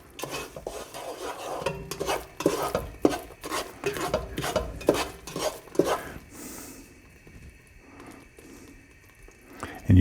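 A utensil stirs thick, bubbling toffee in a pan on the stove, scraping the sides in a quick, irregular rhythm with soft clinks and sticky squelches, then dies down to a gentle simmer near the end; no talking.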